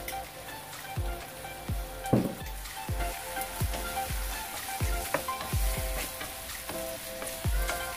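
Chicken wings tossed with brown sugar and fried in a pan, a soft crackling sizzle broken by about a dozen regular spatula knocks against the pan as it is mixed.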